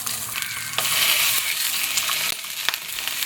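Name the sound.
milkfish (bangus) frying in hot cooking oil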